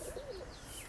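A soft, low pigeon coo sounds briefly against a faint background, nearby at a pigeon market in Lalukhet on a hot day.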